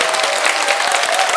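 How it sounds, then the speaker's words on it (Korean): Audience applause fills a Buddhist lecture hall at Unsusa temple's Buddhist college in Busan: a dense, steady burst of many hands clapping at close range, with no one talking over it. "좀 제대로 쳐봐요, 박수 한번 주려면."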